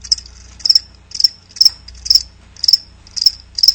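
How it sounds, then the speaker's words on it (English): Crickets chirp as a sound effect in a radio advert, near and clear in regular short pulsing trills, about two bursts per second, over a faint low hum with no voices. "That's right, crickets."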